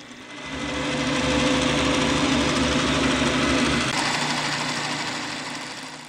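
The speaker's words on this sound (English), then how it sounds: "To cut the dovetail, I'm using a Schar's indexable dovetail cutter" An indexable dovetail cutter mills a dovetail on a machine, giving a steady, loud whirring hum with a slightly rough, chattering edge that swells in over the first second, holds, then eases off toward the end.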